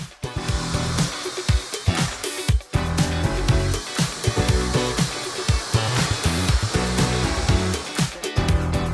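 Hair dryer blowing on hair, a loud continuous airflow roar broken by frequent brief dips and bumps as the dryer is moved around, no talk.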